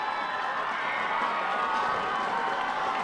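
A large crowd at a high school state championship football game between Southgate Anderson and Trenton cheers and roars steadily, with a dense, sustained wash of voices and some clapping filling the stadium.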